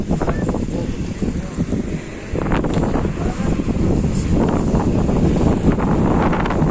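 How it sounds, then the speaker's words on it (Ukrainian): Strong wind buffets the microphone in a constant low roar with gusty surges, loud and close, with no one speaking. "Ой, який вітер."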